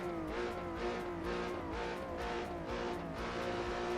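Lotus Evora GTC race car engine in Assetto Corsa, racing at Silverstone: a loud, sustained engine roar with rhythmic rises and dips as gears change, heard alone and close throughout.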